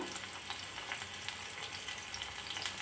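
Chopped dried red chillies sizzle in hot oil in a pan during tempering for a pumpkin erissery, a faint, steady crackling hiss with no talking.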